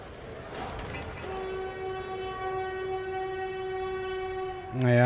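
A train in the city-building game Workers & Resources sounds a long, sustained horn blast, loud and steady for several seconds after some rumbling, then cuts off as other noise rises.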